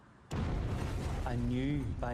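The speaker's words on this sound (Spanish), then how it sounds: "Estaba debajo de un coche cuando oí una enorme explosión." A bomb blast in the town of Omagh, Northern Ireland, bursts in suddenly and loudly, then rolls on as a long, sustained rumble, with a voice speaking over the later part.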